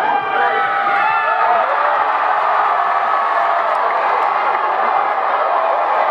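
Crowd of supporters cheering and shouting at the close of a football tournament final in Tanguiéta after Tangueta Centre's 5-2 win, a dense, steady roar of voices sustained throughout.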